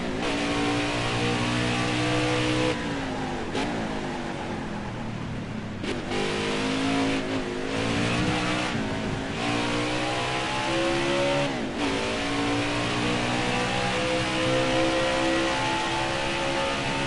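Race car engine in a PS4 racing game revving hard and continuously, with repeated rising pitch sweeps as it climbs through gears and brief dips at shifts, loud and close with no voices over it.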